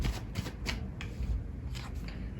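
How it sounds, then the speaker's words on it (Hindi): Tarot cards are shuffled and drawn in a quick flurry of close, crisp riffling and soft slaps, a dense run of papery flicks with no talking. "मैं कुछ और कार्ड्स लेती हूँ"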